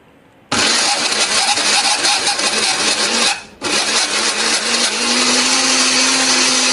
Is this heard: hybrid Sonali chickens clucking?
no